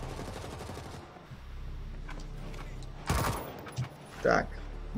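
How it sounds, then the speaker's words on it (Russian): Machine gun fire in the zombie shooter World War Z during a multiplayer deathmatch, a rapid rattling burst early on, then scattered louder shots and impacts, with someone talking over it. "Какой-то у него посерьезнее пулемет, чем мой."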